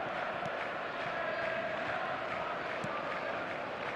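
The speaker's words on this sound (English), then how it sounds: "the crowd level has gone up a notch or 10" Stadium crowd noise from an eFootball match, a dense, steady roar of many voices with a few faint claps and shouts rising out of the wash.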